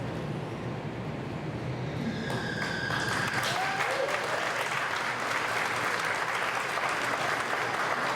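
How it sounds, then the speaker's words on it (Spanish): Audience applause fills the hall at a conference day, a steady dense wash of clapping from a large crowd that holds loud and even throughout, with faint voices underneath. "Un fuerte aplauso, por favor."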